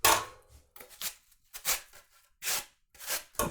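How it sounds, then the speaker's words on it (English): Onion being shaved on a hand grater while cooking cow tongue, a series of short, close rasping strokes in an irregular rhythm, about seven scrapes with brief pauses between them. "I'm actually going to use my grater. I got a grater here. I'm going to shave some of this onion on there."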